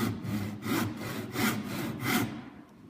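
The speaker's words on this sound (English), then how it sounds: "And then we're going to start sawing down" A hand saw cutting wood with steady back-and-forth strokes, about four even rasping pulls, close and clear, fading out at the end.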